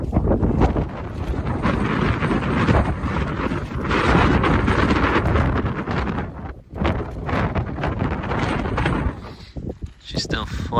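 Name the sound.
strong wind blowing on a mountain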